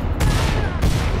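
Grenade blasts in a video game, two heavy explosion bursts close together, loud and dense with crackling debris filling the short span.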